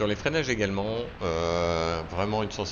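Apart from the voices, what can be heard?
No everyday noises stand out.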